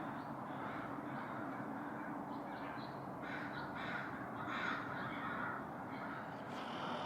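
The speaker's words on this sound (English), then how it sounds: "The crows have now just started leaving the trees, and" A large flock of crows caws continuously as the birds leave their roosting trees at dusk, heading toward Burnaby, with many overlapping calls near and far over a steady wash of background noise.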